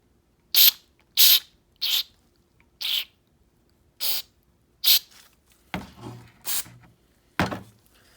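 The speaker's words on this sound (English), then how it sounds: "And squirt some carb fluid into where it sits." Carburetor cleaner fluid is sprayed onto a Sea-Doo carburetor in a series of about nine short, hissing squirts. They are close and loud, with brief pauses between them, and the last few bursts are broader and more sputtery.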